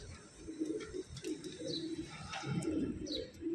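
Repeated low, rolling coos from a black female pigeon, close and soft, coming in several short phrases with a few higher chirps scattered among them.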